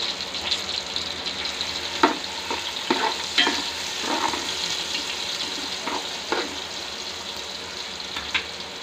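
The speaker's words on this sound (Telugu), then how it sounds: "ఆయిల్ వేడయ్యాక ఉల్లిపాయ వేసుకుంటున్నాను." Sliced onions frying in hot oil with a pinch of salt for a chicken curry, a constant soft sizzle with occasional scraping stirs and light clinks from the pan.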